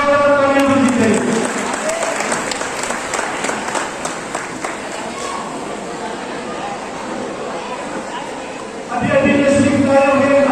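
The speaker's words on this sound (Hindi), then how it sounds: "बच्चों से गुजारिश है जोरदार तालियां बजनी चाहिए।" Children applaud loudly at an inauguration function for an Islamic quiz and Natiya competition, a sustained wash of clapping that eases slightly midway, then swells again near the end as a voice speaks over it.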